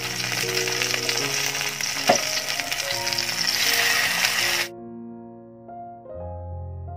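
Sliced tomato frying in hot coconut oil gives a loud, steady, close sizzle over soft background music, cutting off abruptly partway through so only the music continues.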